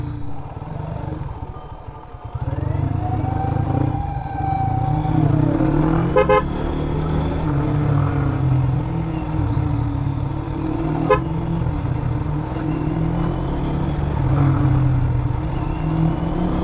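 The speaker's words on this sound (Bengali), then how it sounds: "ও আমার যেমন বিশাল একটা জ্যামের মুখোমুখি হলাম।" Road traffic in a large jam near Comilla on a Chattogram to Jashore motorbike trip: a steady engine drone with several short horn toots and passing vehicles, heard from close by amid the congestion.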